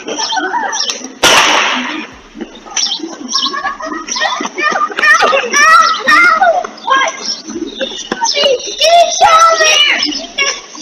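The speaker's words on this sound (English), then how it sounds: "You'll see kids playing, hear a gunshot, then Kobe realizes he's hit." Children play and shout outdoors on a residential street, their high voices overlapping near and loud, with a sharp crack early on and scattered yelps throughout.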